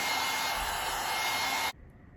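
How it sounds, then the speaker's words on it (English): A hair dryer blows on a curly honey blonde wig, a loud steady close whoosh that cuts off abruptly near the end, leaving faint room noise. "So what I'm gonna do is go ahead and blow dry."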